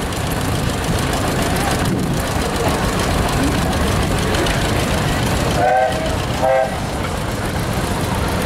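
A 1942 John Deere D tractor rolls by in a steam and gas show parade, its engine a steady, heavy, low rumble with a knocking chug, running loud and continuous, with brief tonal toots near the end.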